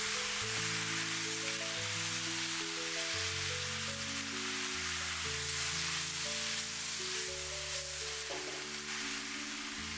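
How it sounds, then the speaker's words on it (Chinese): Torn cabbage is stir-fried in a wok with soybean paste. A soft, steady sizzle plays under quiet background music, with a few faint stirring sounds and no voices. "接着把炒好的包菜直接倒在锅中，快速翻炒均匀，把包菜炒出酱香味。"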